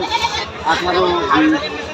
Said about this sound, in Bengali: আমার চাচাও নিয়ে আসছে একটা বড় ছাগল